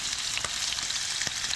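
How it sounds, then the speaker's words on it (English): Flour-dusted chicken sizzles in a hot pan, a steady close-up frying crackle with small pops, no voices. "And while it's sizzling like that, we're going to actually create a crust on one side of the chicken."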